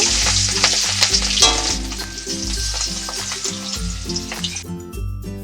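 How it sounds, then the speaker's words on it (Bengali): Pangas and tangra fish fry in hot oil in a wok with a loud, steady sizzle, broken by stirring scrapes and uneven crackling bursts that cut off abruptly near the end. "এই মাছগুলো এবার একে একে আমি দিয়ে দেবো কড়াতে যে মাছগুলো লাল করে ভেজে নেব"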